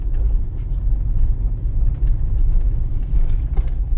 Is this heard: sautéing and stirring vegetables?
no